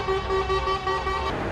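Car horns honking in support of farmers at a French agricultural protest, a steady two-tone blare held for over a second over low road traffic rumble, fairly close and loud.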